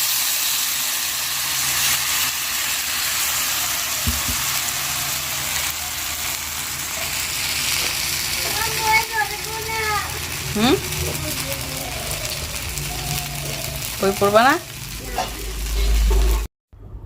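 Gola ruti batter bread frying in hot oil gives a steady, close sizzling hiss, with a short murmured voice and a few high wavering cries toward the end.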